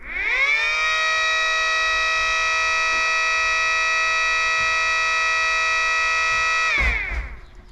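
An outdoor civil defense warning siren, run on a relay, winds up to a loud steady multi-tone wail that holds for about six seconds, then cuts off and winds down with a clunk near the end.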